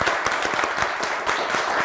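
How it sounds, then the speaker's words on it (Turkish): A studio audience on a Turkish word game show claps in sustained applause, dense and even throughout, heard alone without talking. "Bir alkışla mühürleyelim."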